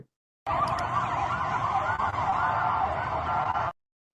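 A loud, steady wailing air raid siren in Tel Aviv during an Iranian missile attack sounds alone for about three seconds, starting and stopping abruptly.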